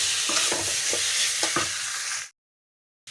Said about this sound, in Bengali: এখানে এই যে আলু মশলা কষাচ্ছি